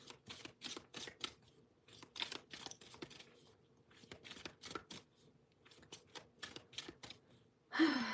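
Oracle cards are shuffled and drawn by hand, producing a quick run of crisp, close card riffles and flicks in uneven bursts, followed by a louder rustle at the end.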